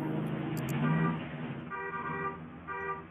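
In the game Warzone, a car horn honks in a few short toots, the first one longer and the next ones briefer, heard close and loud with no talk over them.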